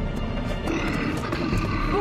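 A dangerous bear in a French animated children's cartoon growls and roars in a rough, continuous rumble. It is loud and close and lasts about two seconds without a break.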